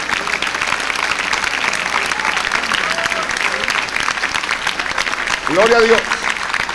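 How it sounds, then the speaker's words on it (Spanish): A church congregation applauds steadily throughout, a dense wash of clapping, and near the end a voice calls out over it. "Denle un aplauso al Rey con todo su corazón"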